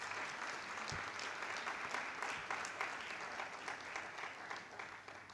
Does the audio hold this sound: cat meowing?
no